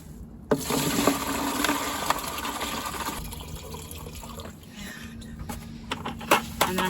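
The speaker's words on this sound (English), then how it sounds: "And I'm gonna pour it in here." Liquid poured into a spouted bucket in a garden setting, a continuous close splashing and trickling stream that shifts in tone midway and ends with a few small knocks, with no talking.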